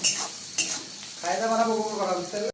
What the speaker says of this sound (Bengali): কত সুন্দর এটা ফ্রাই হচ্ছে।